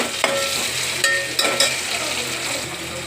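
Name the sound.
tomatoes added to frying onions and stirred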